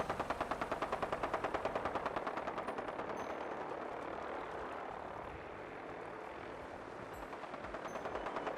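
Rapid automatic gunfire in Fallout 4 rattles in a steady burst at the start, then blends into a dense, roaring wash of combat noise that swells again near the end, with no talking.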